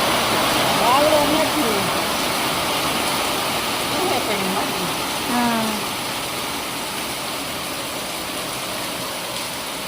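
Heavy rain roars steadily with water running off a roof, while people talk over the constant downpour.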